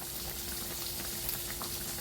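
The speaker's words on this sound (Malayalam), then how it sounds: "സ്റ്റവ് ഓഫാക്കിയിട്ടും ചട്ടിയുടെ ചൂടുകൊണ്ട് കറി തിളച്ച് മറിയാൻ കേട്ടോ" Fish curry bubbling in a hot pan after the stove is turned off, a steady, close, soft simmering crackle that runs evenly throughout with no voices.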